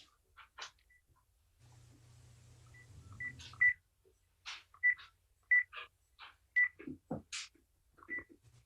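Phone keypad dialing tones during a village trustees meeting: a rapid run of short, evenly spaced beeps, moderately close, after a low hum and soft knocks, with no one speaking.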